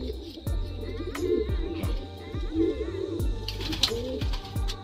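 Madrasi pigeons coo close by in a loft, a steady run of low throaty rolls repeating without pause, with soft clicks and wing shuffles over a low background hum.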